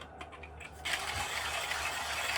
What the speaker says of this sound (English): Now we're gonna grind the beans up.